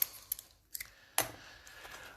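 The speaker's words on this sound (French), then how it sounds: "On va prendre nos ciseaux." Scissors snipping through paper during a paper-crafting session: a few short, crisp cuts spaced apart, close and fairly quiet, with no talking.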